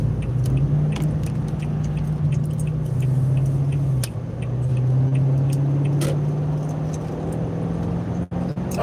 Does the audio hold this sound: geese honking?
no